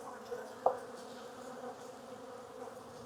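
Honeybees buzzing softly around open hive frames during a spring beekeeping inspection after winter, a faint steady drone with one brief nearby knock.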